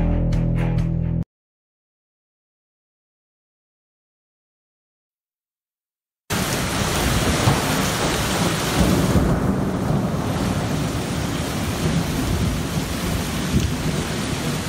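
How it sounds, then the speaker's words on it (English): A thunderstorm over Tuscaloosa, Alabama, with heavy rain pouring steadily and low thunder rumbling through it, loud and continuous after a brief opening sound and a gap of silence. "Thunderstorms rumbled across Tuscaloosa,"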